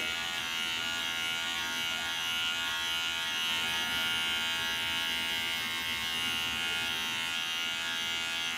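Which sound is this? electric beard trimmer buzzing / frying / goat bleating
electric beard trimmer buzzing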